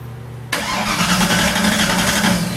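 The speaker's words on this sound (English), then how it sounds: "we're going to go ahead and try to test fire this car and see how she does" A Backdraft Cobra with a Craft 427 engine cranks briefly and fires up on its first test start, settling into a loud, steady rumbling idle close by.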